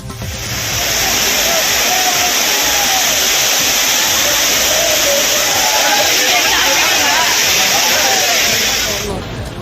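Water at the Courtallam falls crashes down in a loud continuous roar, with a crowd of tourists babbling faintly beneath the rushing spray throughout.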